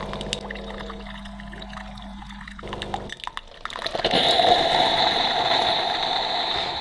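A Bosch Tassimo My Way 2 coffee machine runs a rinse cycle with a pump humming, then hot water pours and splashes steadily into a cup, loud and close.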